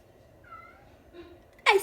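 A cat gives two short meows in a quiet kitchen, the second one louder and higher, with only faint background noise between them.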